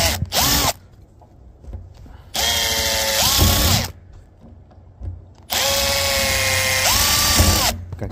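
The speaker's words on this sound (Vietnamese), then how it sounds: "mình khoan ở chỗ này," A power drill cuts into a steel drum in three loud bursts, each whirring up in pitch and then winding down, separated by quiet pauses.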